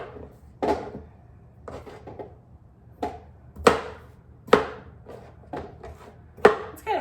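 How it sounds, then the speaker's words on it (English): A knife rough-chopping vegetables for a stew on a cutting board, sharp close thuds in an irregular series of about eight strikes with short pauses between them, no talk. "Now I'm just gonna do rough chop"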